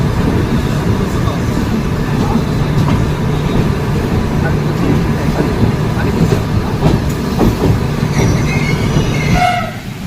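The Madgaon Janshatabdi Express on the Konkan Railway runs along the rails with a loud, steady rumble and rhythmic wheel clatter heard from inside the train, ending in a brief high wheel squeal.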